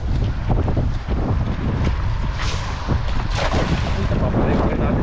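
Strong wind buffets the microphone outdoors beside a fast-flowing river, heavy low rumbling gusts that pulse and swell throughout, with faint voices now and then underneath.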